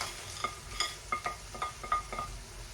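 Fried plantain being stirred into fried gizzard and pepper sauce in a pan, with a run of soft rhythmic scraping and clinking strokes over a low sizzle, close and moderately quiet.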